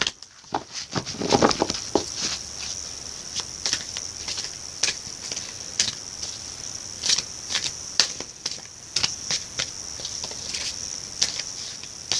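A Sacred Rebels Oracle card deck being shuffled: rapid papery riffles and soft flicking taps repeat for several seconds in a quiet room, close and crisp, with no talking.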